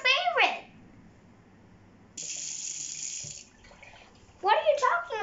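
A faucet runs briefly over a dish in a sink, a steady splash of water that starts and stops between bursts of voices talking nearby.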